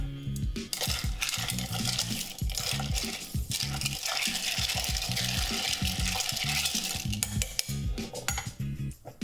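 A Corpse Reviver cocktail with fresh lemon juice is stirred in a glass, giving a steady run of close, bright clinks and rattling as ice is swirled, with no talk.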